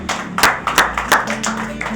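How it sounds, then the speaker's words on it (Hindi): Clapping from a church congregation with sharp bursts of claps in an uneven rhythm, a steady tone humming underneath. "जोरदार तालियां बजाएं।"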